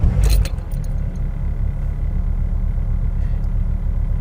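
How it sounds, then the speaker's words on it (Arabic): A Renault Clio engine starting after its crankshaft sensor was cleaned: a short burst of cranking that catches straight away, then a steady, low, close idle rumble that continues evenly with no talk. "كما سمعتم اشتغلت السيارة بدون أي مشكلة"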